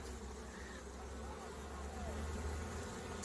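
Honeybees at a sanctuary hum faintly in a low, steady drone, with one or two insects passing close by against a quiet outdoor background.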